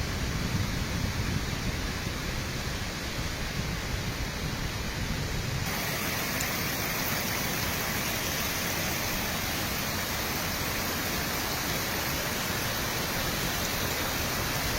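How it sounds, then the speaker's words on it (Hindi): Waterfalls along the pilgrimage route from Badrinath pour with a dense, steady roar of rushing water, broadband and unbroken for the whole stretch, with no voices. "रास्ते में बहुत ही सुंदर सुंदर झरने हैं"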